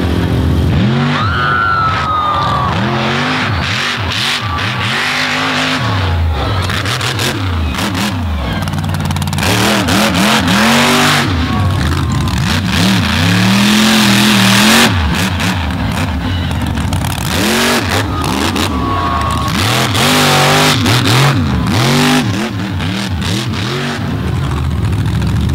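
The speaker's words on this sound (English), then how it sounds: "And now for the monster trucks." Monster truck engines rev hard on a mud track at a Naples event, loud and continuous with rising and falling throttle sweeps, tire skids and crowd-level roar filling the whole span.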